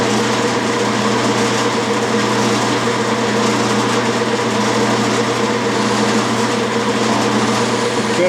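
A metal lathe runs at a steady speed while its carriage is moved, turning a bell center punch: a loud, constant mechanical hum and whir up close, with no pauses or voices.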